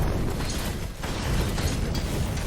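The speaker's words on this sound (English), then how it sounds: "Alright, big explosion." A big explosion in the Achilles Survivor video game, set in ancient Greece, heard as a loud, dense, continuous rumbling roar that fills the whole stretch without letup.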